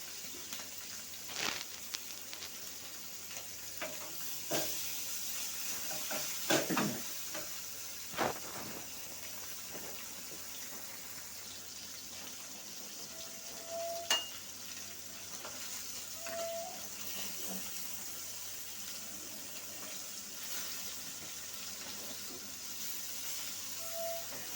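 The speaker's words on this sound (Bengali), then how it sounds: "একসঙ্গে ভাজবো তার জন্য ননস্টিক প্যানেই দিলাম, একসঙ্গে সব মাছই ভাজা হয়ে যাবে" Several pieces of fish fry together in a nonstick pan with a quiet, steady sizzle. Occasional louder clatters and scrapes stand out over the low hiss, with no talking.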